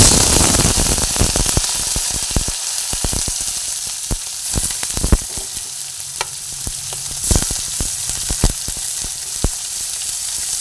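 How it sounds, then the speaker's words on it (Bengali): Prawns sizzle steadily in hot oil in a home kitchen, a continuous close frying hiss broken by sharp clicks and taps of stirring throughout. "কিছু চিংড়ি মাছ নিয়ে আমি চিংড়ি মাছগুলোকে আগে ভেজে নিচ্ছি"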